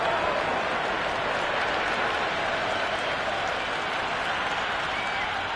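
Cricket crowd applause in the Cricket 26 video game during an England vs Australia Ashes Day 1 match, a steady, dense wash of clapping and crowd noise running unbroken throughout.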